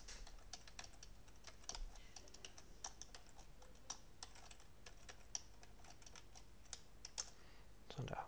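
Numbers keyed in on a computer keyboard for a maths program: irregular, close, fairly quiet taps in quick runs over several seconds, with a few louder keystrokes near the end.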